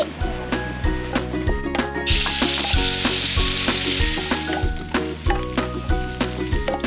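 Ground spice paste sizzles and fries in hot oil in a wok, with steady crackling and a loud, dense hiss that builds partway through, along with recurring scrapes and stirring clatter close by.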